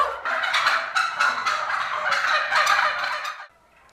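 Turkeys gobble in a loud, rapid chorus of repeated rattling calls on a farm in Ukraine's Kharkiv region, close by, cutting off abruptly near the end.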